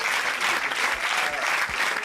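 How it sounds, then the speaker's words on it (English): Audience at the Beresheet moon landing broadcast breaking into steady, dense applause for a couple of seconds, with faint murmuring beneath the clapping. "Why are they clapping?"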